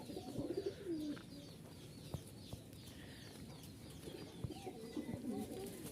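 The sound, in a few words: pigeons cooing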